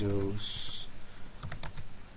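Rapid clicking of a computer keyboard as someone types a search into a web browser, close and moderately loud, with a brief spoken word over the keystrokes.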